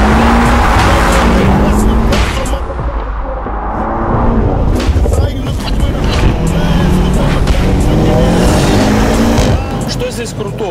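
A BMW M5 F90 with a twin-turbo V8 is driven hard, its engine roaring loud and close as it revs and shifts, with tire and road noise throughout and someone talking over it.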